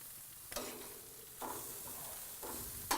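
Cheese being turned over on an outdoor grill, giving a soft continuous sizzle with three distinct scraping flips spaced about a second apart.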